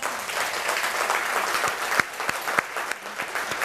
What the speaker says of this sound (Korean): 저에게 박수 치시면 안 돼요.